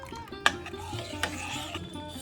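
A spoon stirs and scrapes rice and coconut kheer inside a pot, soft repeated rubbing with a couple of sharper clinks against the metal, close up.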